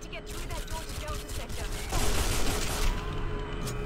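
Rapid automatic SMG fire in the shooter game 007 Nightfire, a dense rattling burst of shots that swells louder around the midpoint and keeps going over background game noise, close and continuous.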